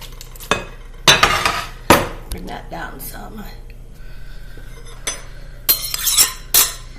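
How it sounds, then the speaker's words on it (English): Potato salad scraped and tipped from one bowl into a bigger bowl, with several sharp clinks and knocks of utensil on dish spread over the span and a soft voice talking between them. "So this is not big enough to mix everything in, so I'm putting it in a bigger bowl."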